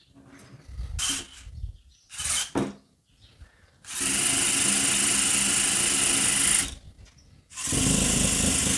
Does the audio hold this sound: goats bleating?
no